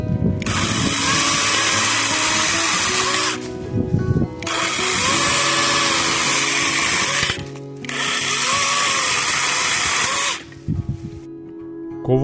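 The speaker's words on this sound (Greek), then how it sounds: "Συνεχίζουμε με ένα χλωρό κλαρί ελιάς, όπου και πάλι το πριόνι κόβει άνετα και καθαρά" A Nakayama EC1600 cordless chainsaw whines loudly through three long cuts into a green olive branch, each lasting a few seconds, separated by brief drops to near silence.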